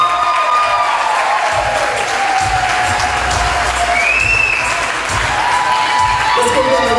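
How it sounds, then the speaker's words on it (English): Wedding guests applaud the newlyweds, Mr. and Mrs. Colin Short, at their first dance: sustained, loud clapping from a large crowd with scattered cheers, filling the room without pause, while a voice speaks over it. "Let's give them a round of applause for Mr. and Mrs. Colin Short."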